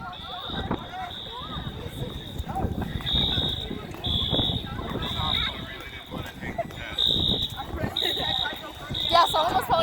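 A fire alarm sounds repeatedly during benchmark testing, a shrill pulsing beep in regular bursts, while people talk and move about nearby.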